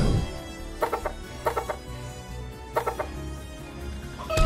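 Chickens cluck in the mobile tactical game Zold: Out. Three short bursts of rapid clucks come through clearly over a steady game music bed, and a brief chime sounds at the end.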